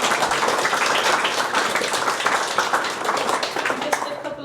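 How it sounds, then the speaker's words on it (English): Audience at a knee pain education evening at a clinic claps in warm, continuous applause after a talk, dense and fairly near, thinning slightly toward the end. "applause."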